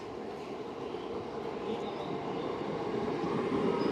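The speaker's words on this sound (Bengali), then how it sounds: "4 নম্বর প্ল্যাটফর্মে প্রবেশ করছে ডাউন 388818 মিদনাপুর হাওড়া লোকাল" A modern South Eastern Railway EMU local train on the Midnapore–Howrah line pulls into platform 4. Its steady, loud rumble of wheels and motors swells gradually as it arrives, with no voices.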